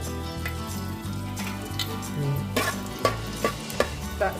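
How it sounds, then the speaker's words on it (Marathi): A few bay leaves drop into about two spoons of hot oil in a pan over a wood-fired stove for chicken rassa, giving a steady close sizzle with sharp metallic spoon taps and clinks on the pan toward the end. "या तेलामध्ये आपण काय टाकायचंय? तमालपत्री टाकत आहोत."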